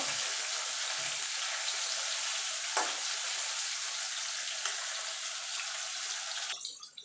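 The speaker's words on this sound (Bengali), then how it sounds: "মাছগুলো আমি এপিট ওপিট করে লাল লাল করে ভেজে নেব।" Pieces of rui fish fry in hot oil with a steady, close sizzle that holds at an even level throughout, broken by an occasional faint clink of a utensil.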